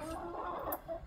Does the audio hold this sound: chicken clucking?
yes